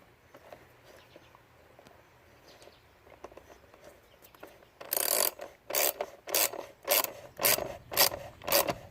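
A ratchet wrench tightens bolts on a Ford F-150 EcoBoost engine, giving a series of about seven sharp, close clicking ratchet strokes in steady rhythm after several seconds of faint handling and rustling.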